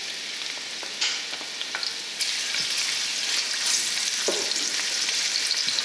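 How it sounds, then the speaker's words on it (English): Onions sizzle in hot oil in a pan, a steady, bright crackling hiss with scattered pops that grows a little louder partway through, heard alone and close up. "You hear the sizzle?"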